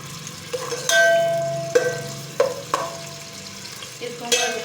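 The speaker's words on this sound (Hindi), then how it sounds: "अब हम इसमें प्याज डालेंगे पिसा हुआ, इसको हम हल्का ब्राउन करेंगे।" Ground onion frying in hot oil, a soft sizzle punctuated by several sharp metallic clinks of a spoon against the pan, close and intermittent.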